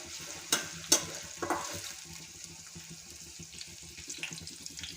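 Onion sautéing in oil gives a soft, low sizzle with clinking utensil taps and stirring scrapes near the start, then settles into a quiet, even fry.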